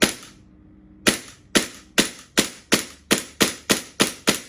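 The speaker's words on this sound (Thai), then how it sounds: "อันนี้ยิงเป็น เซมินะครับ" A custom airsoft Glock 35 pistol fired semi-automatic: one shot, a short pause, then nine more sharp cracks in a quick, even rhythm, loud and close, with no talking.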